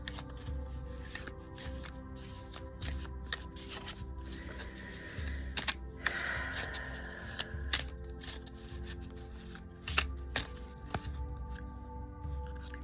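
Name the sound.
shuffling playing cards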